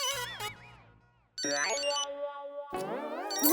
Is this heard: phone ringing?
yes